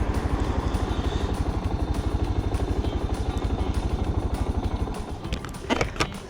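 A warm Suzuki DR 650 motorcycle engine thumps at a steady, close idle with a quick rhythmic pulse, then gives a few sharp clattering knocks near the end.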